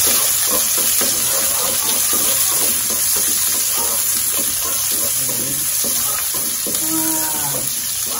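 Onions sautéing in a hot pan for beef picadillo, a steady loud hiss and sizzle with stirring scrapes, with a voice talking over it.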